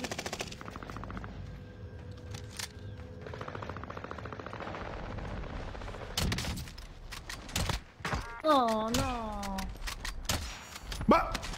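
Rapid bursts of automatic gunfire in a shooter video game, sharp loud cracks in quick volleys mixed with a game's mechanical clicks, while someone talks excitedly over them.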